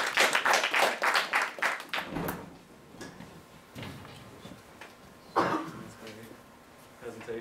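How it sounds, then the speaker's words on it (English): Audience applause for a presenter at a concept-introduction session, a brief rapid patter of claps at the start that quickly gives way to coughs, shuffling and scattered voices in a room. "So let's give him a round of applause"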